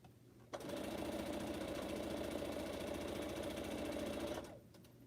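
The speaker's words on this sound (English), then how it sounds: "Trying to do a little bit more faster sewing here" Sewing machine stitching pineapple quilt blocks, starting abruptly and running at a fast, steady rattling pace for about four seconds before stopping, loud and close with no talking.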